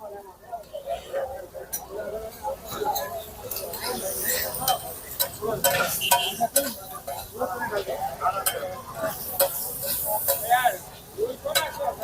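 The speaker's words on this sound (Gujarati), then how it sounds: "થોડી વાર ફ્રાય થવા દઈશું." Peas and tomatoes fry in a pan for pav bhaji, giving a steady sizzle with scattered clinks and scraping of a stirring utensil; a voice talks over it at times.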